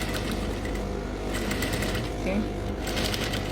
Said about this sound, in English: I'll start sewing from that line